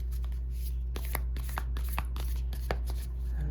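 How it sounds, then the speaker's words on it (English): A deck of spiritual tarot cards is shuffled by hand, a run of quick papery riffles and soft slaps at close range, irregular and fairly quiet over a low background hum. "These guys are hard to shuffle, but they are some of my favorite cards."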